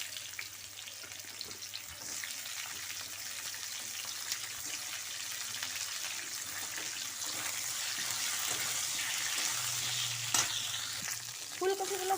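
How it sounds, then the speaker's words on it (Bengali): Cauliflower frying in mustard oil in a wok makes a continuous close sizzle with occasional stirring clatters, plus a brief running-water trickle near the end. "এবার ফুলকপিটা ভেজে নেব"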